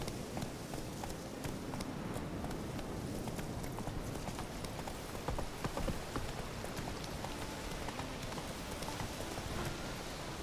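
Horse hooves clip-clop in The Witcher 3 video game in a steady, quick rhythm over a constant hiss like rain, continuous and even throughout.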